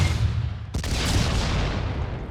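A grenade blast in the game Industria bursts out loud and broadband after a rumbling lead-in, then rolls into a long, dense roaring tail that fades only slightly, with no talking.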